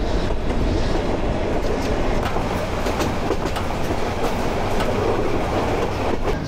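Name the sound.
Mahanagar Express train running through fog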